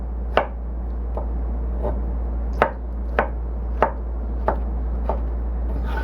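A knife chops tomatoes on a cutting board in a series of about nine sharp, distinct thunks at a loose, unhurried pace. A steady low hum sits underneath, and no one speaks.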